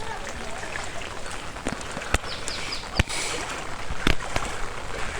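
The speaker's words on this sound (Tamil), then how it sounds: "மழை வந்து நிற்காமல் பெஞ்சிக்கிட்டு இருக்கு." Continuous heavy rain pours over a flooded village in Santhipuram, Mannar, Sri Lanka, a steady broadband hiss with a few sharp taps and knocks standing out, close and unbroken throughout.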